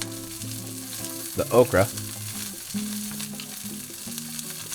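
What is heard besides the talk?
okra sizzling in olive oil in a pan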